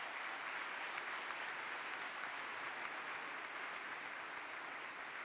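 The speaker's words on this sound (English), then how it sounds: "a round of applause to the board for that" A crowd in a hall at a student science exhibition opening ceremony applauds the board, a soft, even patter of clapping that holds steady from start to finish.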